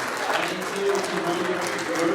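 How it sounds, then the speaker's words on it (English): Club meeting members applauding the people who summarized a chapter: a dense, continuous wash of clapping from a small indoor group, with voices talking over it throughout. "Let's give a round of applause for all of the people who did a summary of the chapter."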